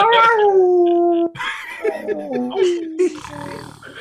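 A person imitates a dog with drawn-out howling woofs and yips, several vocal dog impressions in a row, close and loud.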